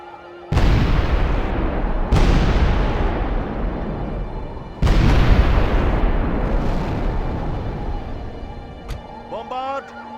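Bombard cannons fire in Medieval II: Total War, three heavy booming blasts spaced a few seconds apart, each followed by a long rumbling decay, with a faint chime near the end.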